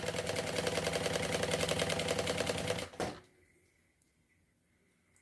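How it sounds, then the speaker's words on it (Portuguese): A sewing machine runs fast, stitching a zipper onto a beach bag with a rapid even mechanical chatter for about three seconds, then stops abruptly, leaving near silence. "E eu vou costurar até o final"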